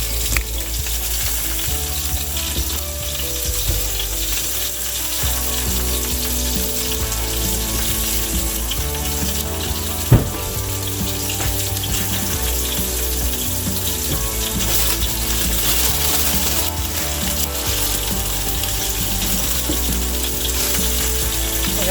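Steak searing in a hot pan, a loud steady sizzle and crackle running throughout with a brief sharp clank near the middle, no talking.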